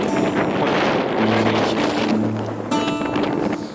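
Strong coastal wind buffets the microphone by the sea, a loud continuous roar with gusting swells and low rumble, no voices.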